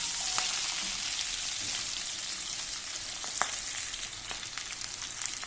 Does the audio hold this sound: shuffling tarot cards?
no